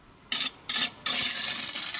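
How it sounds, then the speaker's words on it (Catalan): A trowel spreads and presses runny grout into the joints of old clay floor tiles in a hallway, giving three rasping scrapes, two short strokes and then a longer continuous one, close up. "al passar-li la paleta per sobre l'ajuda a que s'ompli la junta"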